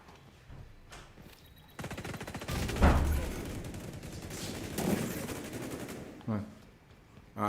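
Rapid bursts of MK 20 SSR rifle fire ring out during an XDefiant match, loud and sharp with echoing reports. Fire comes in several bursts, and a player can be heard talking.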